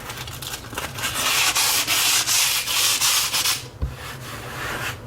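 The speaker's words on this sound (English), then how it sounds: "I'm going to lightly sand with a 600 grit paper to get up any of the bumps." Fine 600 grit sandpaper rubs lightly back and forth over a painted laminate countertop, a close, steady scratchy swishing in rhythmic strokes that stops briefly near the end.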